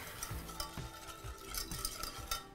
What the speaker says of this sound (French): On va mélanger un petit peu